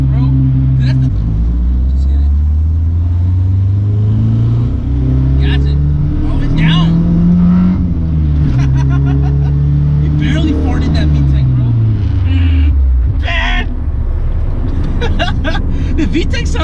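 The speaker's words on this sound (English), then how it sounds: "The VTEC sounds so funny," A Honda B20 VTEC engine in an EF sedan revs hard, its loud tone climbing and dropping in repeated sweeps as it pulls up through the rev range, with voices faintly under the engine noise.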